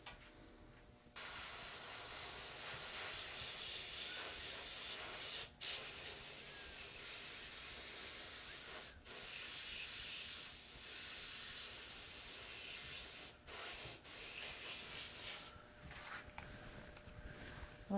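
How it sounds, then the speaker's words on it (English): An airbrush sprays makeup onto a face, a steady near hiss running almost continuously with a few brief pauses and a fainter tail near the end. "You want to be careful when airbrushing the face that you don't get the airbrush too close up to the lips"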